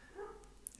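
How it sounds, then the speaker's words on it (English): A dog barks faintly somewhere in the distance, a short, soft, muffled yip in an otherwise quiet room. "Now my dog's barking."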